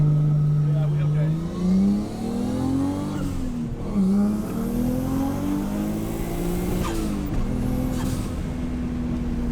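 A 1JZ VVT-i swapped Nissan 240SX accelerating hard, its engine note climbing steadily, dipping at each clutch shift, then rising again, loud and close throughout.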